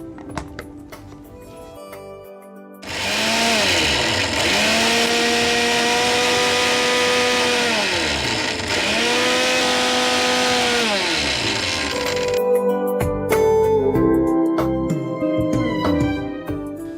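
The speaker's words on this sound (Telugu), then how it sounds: "సో ఇప్పుడు దీన్ని మిక్సీ పట్టాలి." Kitchen mixer grinder blending green chillies, ginger and water, a loud close whirring roar that starts abruptly, pitch dipping and recovering in pulses before cutting off, with clattering handling sounds around it.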